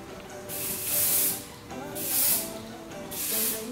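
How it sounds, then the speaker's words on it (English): Hairspray mists from an aerosol can onto a braided section of hair in three short, soft hissing bursts with brief pauses between, close and fairly quiet. "if you take a little bit of hairspray and just mist it"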